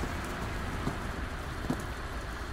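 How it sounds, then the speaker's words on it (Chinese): Heavy rain ahead of a typhoon patters steadily in a dense, unbroken wash of drops, loud and close, with a couple of slightly sharper splashes and no voices. "我们下着大雨，噼里啪啦的，台风要来了"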